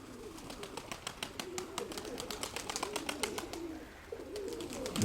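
A Tumanorizy pigeon, wet from fog, flies with quick rhythmic wingbeats that clap in a fast, regular series. Low pigeon cooing can be heard underneath, fairly close and moderately quiet.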